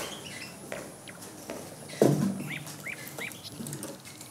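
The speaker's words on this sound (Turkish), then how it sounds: "bu garibe Bursa Karacabey Bülbül'ü dinleteceksin. Bak nasıl patlıyor hayvan." A Bursa Karacabey nightingale sings a few short, bright chirps in the latter half, fairly faint against a soft background hiss.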